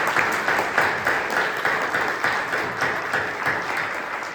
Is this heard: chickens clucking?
no